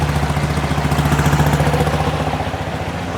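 A 1972 VW Beetle engine with dual carbs idles steadily with the blower motor running, a close, continuous low throbbing pulse that sags slightly under the load.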